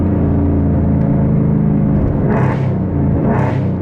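Roush Mustang with a mid-muffler delete, Steeda H-pipe and Roush axle-back exhaust, heard from inside the cabin as a loud, steady low rumble, with two brief rising swells of revving during a downshift.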